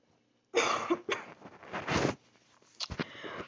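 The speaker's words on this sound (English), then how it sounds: "I had to clear my throat" A person clears their throat close to the mic in a few harsh, forceful bursts, then a quieter, rougher rasp trails off at the end.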